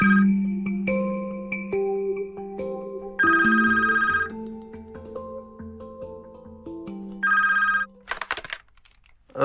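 Telephone ringing in a parish house in a Czech radio detective drama, two clear ring bursts amid soft background music, followed by a short noisy rattle as the receiver is picked up.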